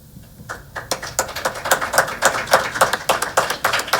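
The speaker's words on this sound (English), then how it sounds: "Clap for yourself" A small group claps steadily for several seconds at a board of education meeting, a dense patter of hand claps that builds slightly and holds, nearby and without talk.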